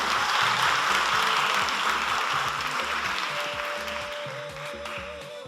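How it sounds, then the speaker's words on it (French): A television studio audience applauds in a steady, dense wash of clapping that fades slightly toward the end, with a thin sustained tone appearing in the last seconds. "Applaudissements bien fournis"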